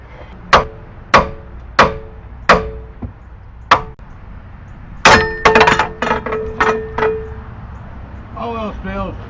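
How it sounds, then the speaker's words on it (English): A hammer strikes a tie-rod end bolt on a 1999 Jeep Grand Cherokee, giving sharp metallic clangs: six spaced blows, then a quicker burst of hits, followed by someone talking. "All else fails, bash the bolt."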